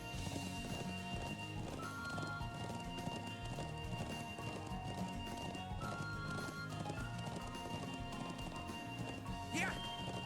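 In the video game The Legend of Heroes: Trails of Cold Steel, a horse's hooves clop in a quick, steady rhythm, with a brief neigh and a crash near the end, under in-game music and a speaking voice.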